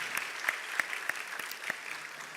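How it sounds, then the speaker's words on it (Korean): Worshippers in a church service clap in praise, a light, fairly quiet patter of hands with a few sharper claps standing out, heard from some distance in a large room. "하나님께 영광의 박수 올려드립니다"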